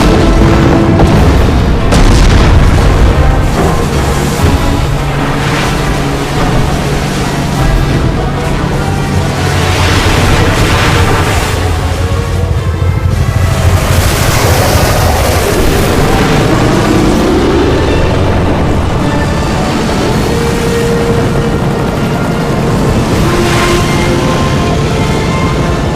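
Ships fire on a target, producing a long run of heavy booming explosions and rumbling blasts that roll on continuously and loudly, with no voices over them.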